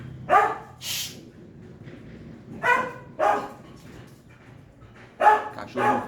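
Several old dogs bark in short bursts near a street, with a few loud yapping barks spread across the clip and a soft background hum between them.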